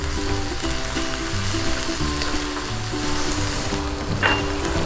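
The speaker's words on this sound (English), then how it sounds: "So I'm just gonna toss this to combine and let the liquid come to a boil." Chow mein sauce with oyster sauce bubbles and sizzles in a hot stir-fry pan, making a loud, steady frying hiss with no talking throughout.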